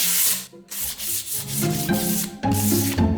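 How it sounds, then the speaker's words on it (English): Sandpaper is rubbed by hand along the edge of a wooden door in a series of short, close, scratchy strokes with small pauses between them. "Just run a bit of sandpaper down it."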